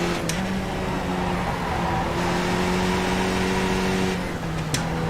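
A race car engine in a racing video game at Zandvoort holds a steady loud drone, shifting pitch as it brakes and drops down through the gears, with short sharp clicks near the start and end.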